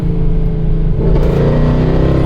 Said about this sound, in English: Oh, those lovely downshifts. Absolutely fantastic.